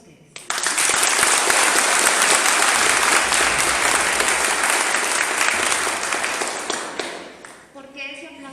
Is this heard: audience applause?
yes